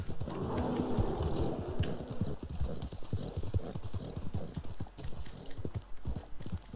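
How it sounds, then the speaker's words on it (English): Horse hooves in the Red Dead Online video game clip-clop in a steady, rapid rhythm of distinct close hoofbeats, continuing over low background rumble throughout. "What is this horse doing right now? Don't run around in circles."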